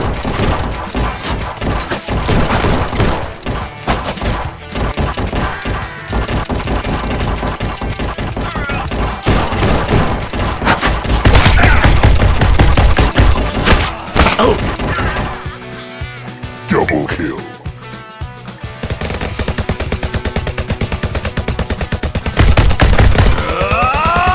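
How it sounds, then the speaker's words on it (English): Revolver gunfire in the Guns'n'Stories: Bulletproof VR game, heavy and rapid shots fired in dense volleys, loud and close, with brief lulls and crashing impacts along the way. "Could revolvers really shoot like this?"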